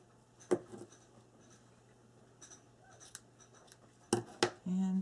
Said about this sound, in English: it's okay if it frays right there on the end, and trim that off